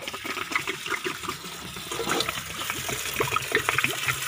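Two liters of water pour and slosh into a container while being mixed for homemade organic NPK fertilizer, with continuous splashing and gurgling up close.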